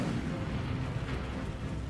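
A steady, dense roar of fire fills the scene as the Incendio fire spell is cast in the video game Hogwarts Legacy. Close and continuous, the low whooshing rumble holds without pauses or voices.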